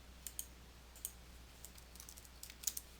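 A few faint, sharp mouse clicks on a Save button, sparse and irregular over a quiet background, with no speech.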